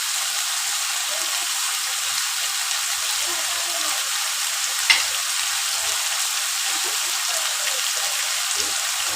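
Chicken fries with ginger garlic paste in hot oil, a continuous even sizzle like light rain, with one brief utensil tap midway and no talking.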